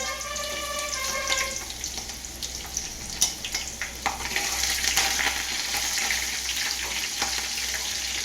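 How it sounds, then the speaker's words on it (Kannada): Cumin, mustard seeds and green chilies fry in hot oil for bisi bele bath, giving a steady close sizzle dotted with small pops and crackles that build slightly over the stretch. "ನೋಡಿ ಜೀರಿಗೆ ಹಾಕ್ಕೋತೇನೆ ಇವಾಗ ಈಗ ಸಾಸಿವೆ ಹಾಕ್ಕೋತೇನೆ ನೋಡ್ರಿ ಈಗ ಮೆಣಸಿನ್ಕಾಯಿ ಹಾಕ್ಕೋತೇನೆ"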